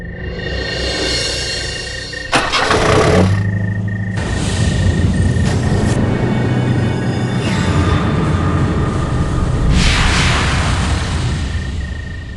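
A taxi carrying a passenger starts up and drives off, a steady engine rumble filling the stretch with a louder burst of mechanical noise partway through and road noise continuing alongside.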